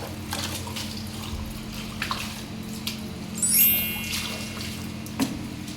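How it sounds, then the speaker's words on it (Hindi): Water runs from a tap over feet being washed at home, a steady broad wash with splashes and a brief louder gush near the middle, close by and alone. "तो पैर धो लेते हूँ पहले तो।"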